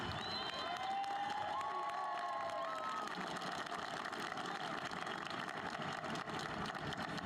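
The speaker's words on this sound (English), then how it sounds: "Let's please give a round of applause to our Santa Fe High Choir under the direction of Mr. Caleb Heaton." Graduation crowd at Santa Fe High School applauding and cheering the Santa Fe High Choir, a steady dense wash of clapping from a large audience throughout, with scattered shouts and whistles.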